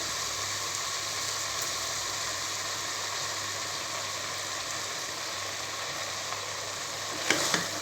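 Soaked rice is being stirred into a frying chana biryani masala, producing a faint, even sizzle that holds steady throughout, with a couple of small scraping knocks near the end.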